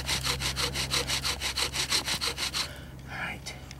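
A wooden bow drill spins against a wooden fireboard to make fire, giving a steady rasping back-and-forth scrape of about fifteen quick strokes that then stops, leaving faint rustling.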